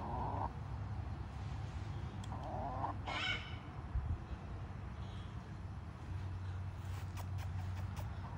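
Chickens on a farm clucking softly and intermittently in the near background, with a brief louder squawk partway through, over a steady low hum of outdoor ambience.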